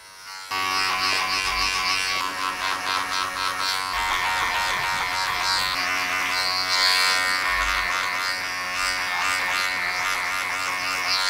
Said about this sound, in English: It'll only do what the clipper does if you make it do it